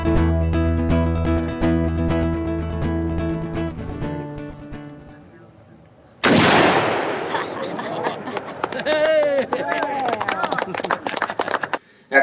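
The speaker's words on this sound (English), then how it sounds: "He showed off his shooting skills a little bit by shooting in front of the cameras" A single sharp gunshot cracks out during a deer hunt with a mobility-impaired hunter, following a stretch of music and leading into people talking afterward.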